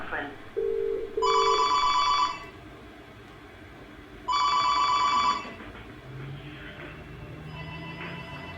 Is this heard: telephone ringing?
yes